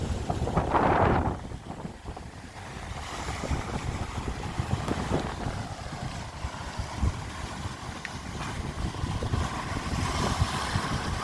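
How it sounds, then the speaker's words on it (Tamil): Sea waves break and wash along the shore on a beautiful evening, a continuous broad rushing roar with heavy wind buffeting the microphone, no voices. "கடல் அலைகள் ஒன்றுக்கு மோதிக்கொண்டு அடிச்சுட்டே இருக்கும்."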